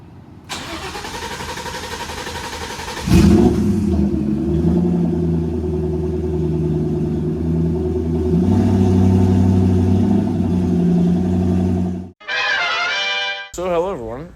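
A Dodge Charger drag car, about 3,300 pounds with a roll cage, cranks and fires up, then settles into a loud, rough idle with a revving section before cutting out abruptly.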